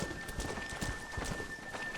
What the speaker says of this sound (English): We're not gonna be able to hear each other in this rain.